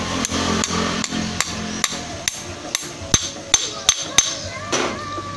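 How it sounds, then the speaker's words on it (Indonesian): A hand grinder's bearing struck repeatedly with a hammer, about a dozen sharp metallic knocks in an uneven rhythm, close and loud, with no talking. "Ini bisa dipukul pakai palu."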